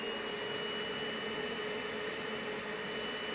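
A vacuum cleaner runs steadily on a fursuit, giving a continuous, fairly loud whirring drone with a steady tone and no pauses or voices.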